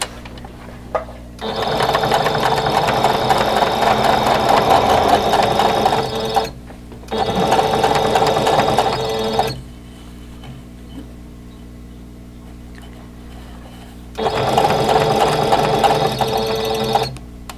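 A sewing machine stitching through a fabric quilt block runs in three steady bursts of fast mechanical whirring, each a few seconds long, separated by short pauses, close and fairly loud.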